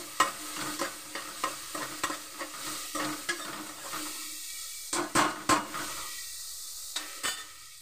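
Onion frying in ghee, stirred with repeated scraping strokes against the pan over a steady sizzle, close and fairly loud, with a few sharper clinks; no voices.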